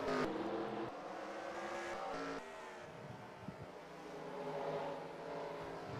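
Race cars lapping during Lakes Region 200 qualifying, a steady layered engine drone from a pair of cars heard at a distance, with slight swells as they pass.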